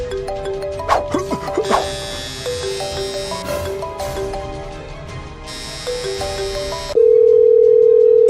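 An unanswered phone call in a Kenyan drama plays as a loud electronic ringback melody of stepped tones for several seconds, ending in a steady continuous tone.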